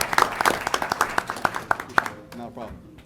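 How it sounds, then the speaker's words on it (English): Brief round of clapping for emergency dispatchers at a meeting, a handful of sharp distinct claps in quick succession that taper off after two seconds, followed by a faint voice. "They're the ones who should get your applause"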